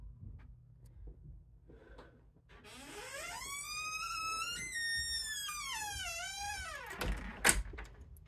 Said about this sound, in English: Really squeaky door.